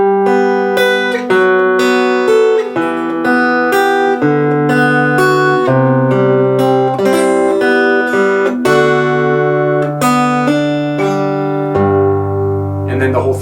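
The interlude of a song is played fingerstyle on guitar: a flowing run of clear plucked notes and ringing chords at an even pace, close and prominent, ending on a sustained low chord.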